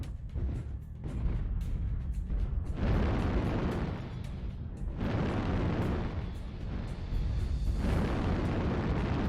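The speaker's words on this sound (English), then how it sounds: "Airstrike activated. New target acquired." Heavy, sustained booms roll through a video game airstrike in rapid succession, with deep rumbling bursts that swell and overlap for several seconds and leave almost no gap between blasts.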